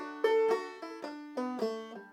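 A short banjo crossover lick of plucked, ringing notes in a quick cascading rhythm, about eight picked notes over two seconds, clear and close.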